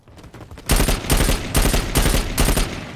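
Gunfire in the shooter game Dirty Bomb comes as several loud, close bursts of rapid automatic shots in quick succession after a brief quiet start, with no talking.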